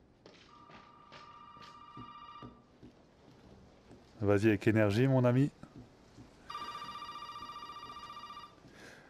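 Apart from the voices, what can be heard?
telephone ringing, from video game Resident Evil 7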